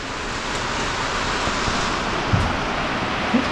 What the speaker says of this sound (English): Unbelievable rainstorm here today.